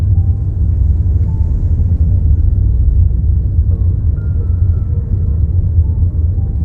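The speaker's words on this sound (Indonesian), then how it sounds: "Oh, ini truk-truk besar." Big trucks pass along a broken provincial road caked with soil in an industrial area, a steady, heavy low rumble of engines and tyres that continues without pause and without talk.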